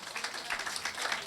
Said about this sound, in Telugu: చప్పట్లు గట్టిగా కొట్టి మహింప